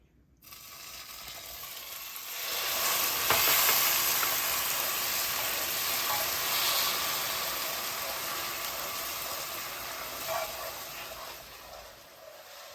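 Melted butter and milk cooking down into caramel in a pan give a continuous, moderately loud sizzling hiss that swells after a quiet start and holds steady, with occasional faint clinks and no speech.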